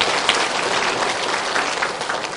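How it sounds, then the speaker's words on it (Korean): Congregation applause during a church worship service, a dense burst of many hands clapping together at close range, sustained evenly for a couple of seconds with no speech over it. "살아계신 하나님 영광의 박수를 한번 드리겠습니다."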